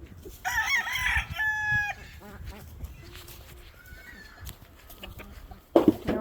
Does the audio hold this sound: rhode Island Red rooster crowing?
yes